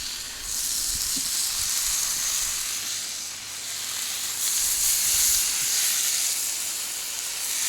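Costco bacon sizzles steadily on a Blackstone griddle outdoors, a bright continuous crackling hiss that swells and eases slightly, close and alone without talk.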